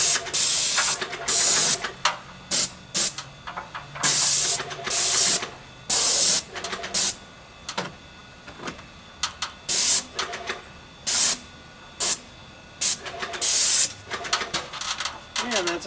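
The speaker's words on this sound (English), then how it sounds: "when you're spraying, you don't want to hold on to the trigger the whole time" Repeated loud hissing bursts of a paint sprayer coating stucco siding on a home, short sprays separated by pauses in an irregular rhythm, close up.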